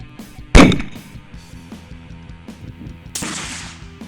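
Magnum rifle fired from a Caldwell Lead Sled rest, one loud sharp close gunshot with a booming decay, followed by a second burst of noise a few seconds later.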